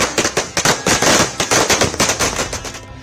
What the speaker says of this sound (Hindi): पटाखों की आवाज इस जोश को दोगुना करती है